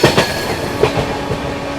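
The Haldia Anand Vihar Express rolls past with a rhythmic clickety-clack of wheels over rail joints and a steady metallic rumble, close and fairly loud, with no voices.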